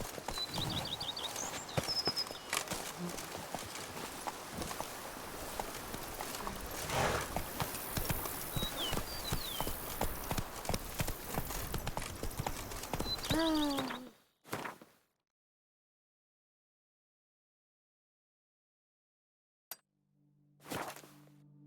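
A horse gallops in The Witcher 3 game, dense rapid hoofbeats with snorts and ambient bird chirps for about fourteen seconds, then near silence broken by two brief isolated knocks.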